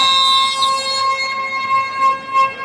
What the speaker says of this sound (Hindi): कोटा के स्टेशन से बिलासपुर जाने के लिए ट्रेन निकल रही है, लंबी सायरन के साथ में